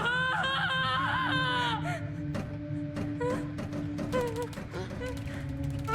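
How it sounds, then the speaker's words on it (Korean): Terrified humans scream in the creature-horror video game Carrion, several shrill, wavering cries overlapping above a low rumbling backdrop punctuated by sharp impact sounds. "그것들의 비명이 찌르듯이 청각기관을 울려온다."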